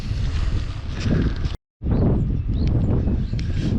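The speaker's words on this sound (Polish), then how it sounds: "Dosyć chłodny wiatr gdzieś ze wschodu wieje." Cold east wind on the first day of spring roars and buffets the microphone in a loud, continuous rumble, broken by a brief moment of silence partway through.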